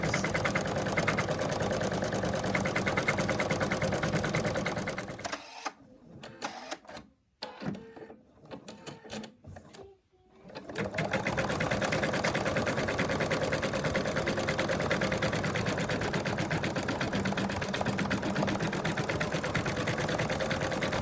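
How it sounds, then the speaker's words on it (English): Embroidery machine stitching the outline of a cat's arms, legs, tail and ears on fabric, a rapid mechanical whirring chatter that stops for a few seconds of quiet clicks, then resumes steadily, close and loud. "It's now going to stitch out the outlines of the arms and legs, tail, and ears."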